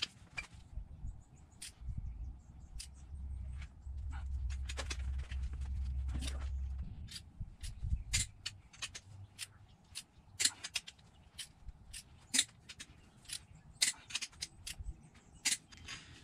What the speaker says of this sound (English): now I gotta tighten bolts 1 through 6 to 110 foot-pounds